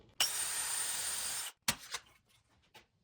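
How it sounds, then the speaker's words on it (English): Power drill boring a hole into a wooden board, a close, steady high whirring for over a second that stops abruptly, followed by a few knocks and handling sounds. "and then drill your hole."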